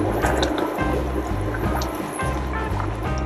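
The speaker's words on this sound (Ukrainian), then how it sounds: "Ось так активно кипить." Sugar and water syrup with lemon juice boils vigorously in a thick-bottomed pan, giving a steady, dense bubbling hiss at close range with no talk.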